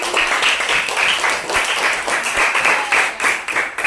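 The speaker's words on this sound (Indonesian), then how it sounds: "kasih tepuk tangan untuk anak ibu dulu" A classroom of children applauds a classmate, loud close rhythmic clapping in regular bursts filling the whole stretch.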